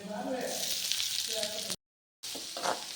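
Chopped large onions sizzle and fry in a pan with a steady hiss and faint stirring, cutting out briefly before the sizzle returns.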